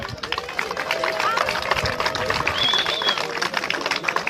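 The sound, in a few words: audience applause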